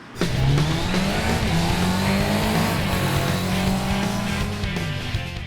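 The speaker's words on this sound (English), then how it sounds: "It's a 2005 Suzuki GSX-R 1300 Hayabusa. It's a badass bike." A 2005 Suzuki GSX-R 1300 Hayabusa motorcycle engine revs hard and holds a loud, steady high-pitched drone for several seconds, close by and alone, easing off slightly at the end.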